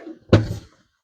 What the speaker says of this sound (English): I'm going to pop these doors off so that they're out of our way.